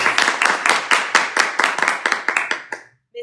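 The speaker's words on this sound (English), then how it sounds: "So please join me in giving all of our participants today a huge round of applause." A small audience claps for the participants of a seventh grade speech competition, about a dozen distinct, fairly close claps in a loose rhythm that thins out and stops after about three seconds.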